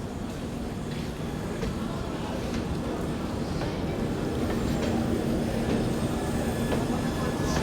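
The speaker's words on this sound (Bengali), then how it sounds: "এগা মুর্শিদাবাদ নদীর মধ্যে একটা ট্রেন চলল, সায়রান এক্সপ্রেস।" Siren Express passenger train running on rails near a river in Murshidabad, a steady rumbling roll of wheels and carriages with faint clatter, continuous and moderately loud throughout.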